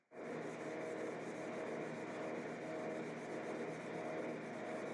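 Hand sanding of a wooden guitar body with 320-grit sandpaper, a close, steady, continuous rasping rub that starts abruptly and holds without pause.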